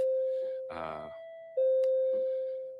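A two-tone electronic chime rings out twice, each steady note sustaining and slowly fading, with a short burst of voices between the tones.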